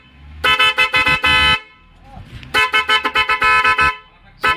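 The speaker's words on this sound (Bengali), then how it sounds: "হর্ন কিন্তু এখন রকেট" A newly repaired car horn honks in repeated bursts, a long blare then a series of short toots, a pause, and another run of quick honks, loud and close with faint background voices.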